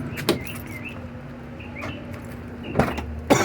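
The rear door of a high-mileage truck is opened, with sharp clicks and thuds of the latch and door mechanism at the start and end amid a quiet hum, plus faint bird chirps in the background.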